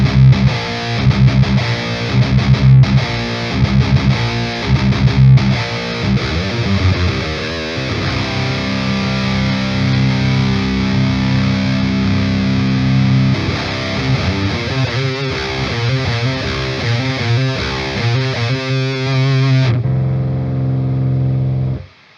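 Heavily distorted high-gain electric guitar through the Amped Roots amp sim, with a noise gate, chugging palm-muted riffs and sustained chords played loud and continuous, cutting off abruptly at the end.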